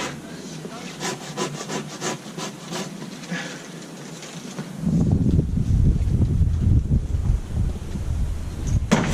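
A hand saw rasps through a tree branch in a quick run of rhythmic strokes, then a heavier, rougher scraping rub continues near the end.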